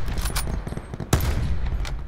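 Rapid gunfire from the Call of Duty: Blackout video game, a steady close stream of shots with one louder report in the middle.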